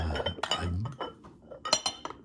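Milk glass pieces from an estate sale clink softly as they are handled, a few light, bright taps and knocks scattered over two seconds, close and quiet.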